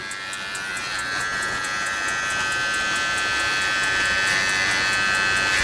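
Hiena cordless professional hair trimmer running in trimmer mode, a steady close electric buzz that holds constant and grows slightly louder throughout.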